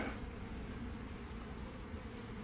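Honeybees from a caught swarm buzz steadily inside a hive while an inner cover is slid on. The hum is dense and continuous, close and fairly loud, and no voices are present.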